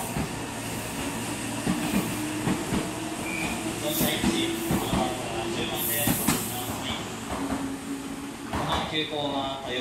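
A Meitetsu 2000 series μSky electric train rumbles and clatters into platform 4 at Kanayama station, with rail noise, squeals and a door sliding, while an announcement plays faintly beneath.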